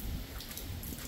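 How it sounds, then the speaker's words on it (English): Rain falls steadily on Maui as a dense, even hiss, faint and continuous, with no talk. "it's actually raining pretty good"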